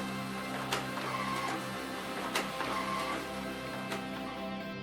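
A Formax FD 1202 pressure sealer folds and seals printed forms with a steady mechanical whir, broken by sharp clacks that repeat about every one and a half seconds.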